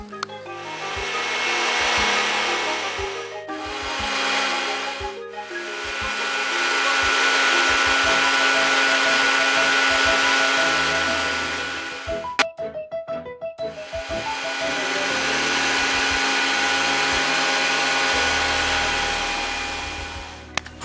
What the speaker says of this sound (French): Je vais continuer à battre jusqu'à saturation.